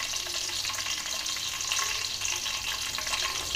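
Fish curry liquid, sour and spicy, hits a hot pan with a steady broad sizzle and faint stirring, close and continuous with no talking.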